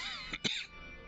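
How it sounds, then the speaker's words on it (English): A person coughs twice in quick succession, close and fairly sharp, over faint background tones. "I'm coughing a lot."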